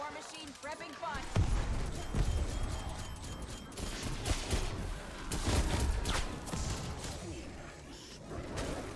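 The War Machine grenade launcher in the Call of Duty zombies map Die Maschine, late in a high round, firing heavy booming shots with mechanical clatter over game noise, while a player talks throughout.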